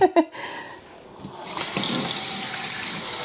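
A kitchen tap runs while a measuring spoon that held mayonnaise is rinsed, starting with a couple of brief knocks, then a steady splashing rush of water.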